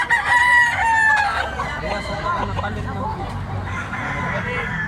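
A Spangle White stag rooster crows loudly up close and then clucks, while a market crowd chatters and haggles in the background in Tabunok, Cebu.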